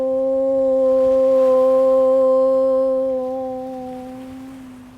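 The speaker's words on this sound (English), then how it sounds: "We'll end our class today with the sound Om." A single long, steady chanted Om at the close of a yoga class, one sustained low voice that swells gently and then fades over about five seconds, with no other sound.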